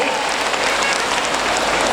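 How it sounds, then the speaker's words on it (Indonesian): Loud, dense applause from a large gathering of Muslimat NU women at a mass tahlil event in Mojokerto, a continuous wash of clapping that fills the short moment without a break. "Tepuk tangan untuk Bapak Ibu semuanya"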